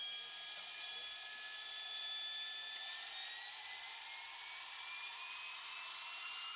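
A fighter jet engine spooling up in a flight simulation game, a faint whining drone with thin rising tones climbing steadily, heard alone without talk.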